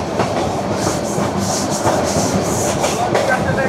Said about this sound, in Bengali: অনেক জোরে যাচ্ছে পর্যটক এক্সপ্রেস ঢাকা থেকে কক্সবাজার